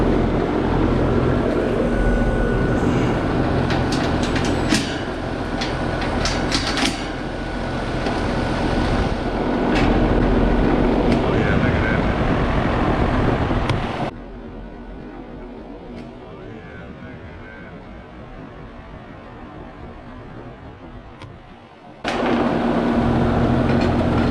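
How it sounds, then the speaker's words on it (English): The motor of a Trane AC unit shakes and rattles in a loud, steady drone for about fourteen seconds. The noise then drops to a quieter hum and comes back at full force near the end. "Motor's shaking pretty good."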